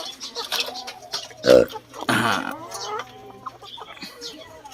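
A hen clucks a few times close by in a backyard flock, with short bursts of bird calls and some faint background voices.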